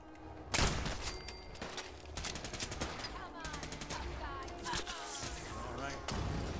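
Enemy gunfire in Fallout 4, with bursts of automatic and single shots cracking repeatedly across several seconds, punctuated by a heavy thump early on, fairly quiet overall.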